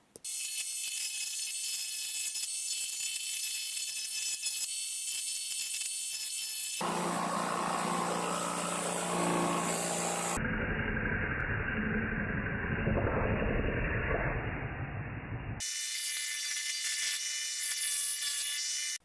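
A jigsaw mounted under a table buzzes continuously as it cuts a bean-shaped piece, its rough rasping tone shifting in pitch and texture across the cut, close and without talk.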